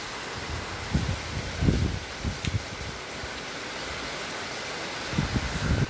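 Strong wind during an intense thunderstorm in Athens roars as a steady broadband rush, with several louder gusts and rustling bursts rising out of it, no talk.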